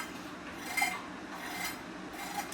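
Large pointed gourds have their skin scraped off in a home kitchen: a quiet, close rasping, with soft scraping strokes repeating across the clip and no talking.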